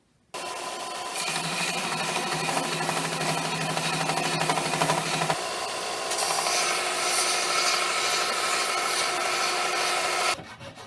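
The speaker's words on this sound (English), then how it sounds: "I'm going to use the belt sander to sand down this end right here to make it more round and more smooth" A belt sander grinds steadily against the end of a homemade wooden double-headed spear, a loud, continuous abrasive rasp lasting about ten seconds with slight shifts in tone as the pressure changes.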